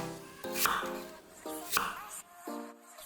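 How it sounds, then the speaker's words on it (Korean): Knife chopping garlic cloves and apple into small pieces on a board, a few distinct chops in an uneven rhythm, close and moderately loud with quiet pauses between. "빠지면 섭섭한 통마늘 5개도 작게 잘라주고 상큼한 단맛을 더해줄 사과 한 개도 작게 잘라서 담았다"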